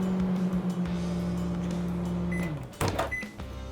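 A microwave oven hums steadily while remelting homemade pumice soap, then the hum winds down and stops, followed by a sharp clunk of the door and a couple of short electronic beeps.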